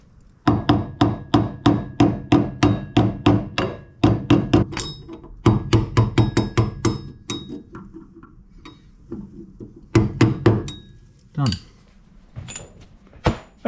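A hammer tapping parts down on the front beam of a 1952 barn door ambulance, a steady series of sharp metallic taps close by, continuing in clusters with brief pauses and some speech mixed in.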